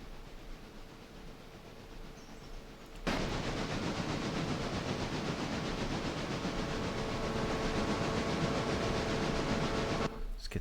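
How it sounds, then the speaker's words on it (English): Steam train running in the video game Railroader, a steady broadband rumble and hiss that swells loudly after a quieter start and holds continuously until it cuts off near the end. "Here's our train."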